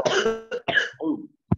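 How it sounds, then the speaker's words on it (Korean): A student's cough comes through an open microphone during an online class: a burst of harsh coughs and throat sounds in quick succession, then a short final cough after a pause, fairly close and clear. "누가 이렇게 기침을 하냐? 실시간으로 들려서 깜짝 놀랐네."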